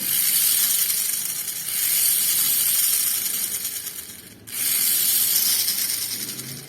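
A Sonic Saber Mini 4WD car with brass axles runs its small electric motor in a bright, high whirring hiss, rising and easing in three close spells with a brief cut near the end.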